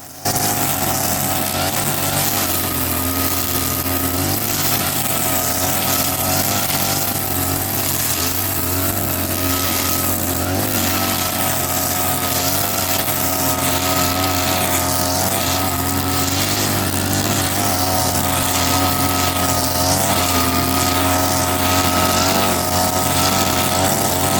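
A gas brush cutter engine runs continuously while mowing grass, a loud steady whine with small rises and dips in revving that holds for the whole stretch without a break.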